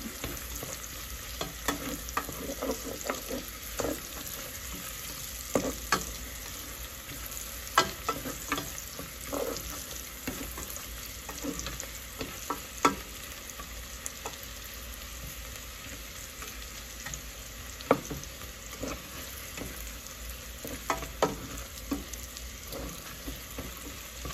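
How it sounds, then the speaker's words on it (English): Bacon cooking in a pan before tomatoes go in for okra and tomatoes, a soft continuous crackle and sizzle with scattered sharper pops, quiet and steady throughout with no voices. "just let our bacon cook a little bit more"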